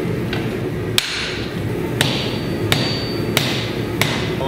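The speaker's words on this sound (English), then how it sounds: "We're gonna need some hammering to fix that." Sharp hammer strikes on the metal jaw of blacksmith tongs ring out at a steady pace, about six blows spaced roughly a second apart over a constant background hum.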